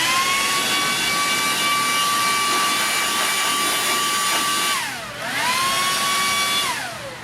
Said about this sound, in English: So if you like how much this little blower blows, just imagine a blower that is more than 6 times more powerful.